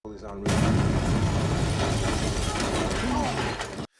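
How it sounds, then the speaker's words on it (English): A house explodes: a sudden loud boom erupts into a sustained, roaring blast with rumbling debris, holding steady for several seconds before cutting off abruptly. "the house explodes in a massive blast"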